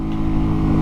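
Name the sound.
modified Grom motorcycle engine revving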